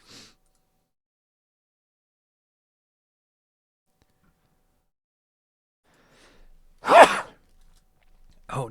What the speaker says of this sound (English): I was sneezing in my arm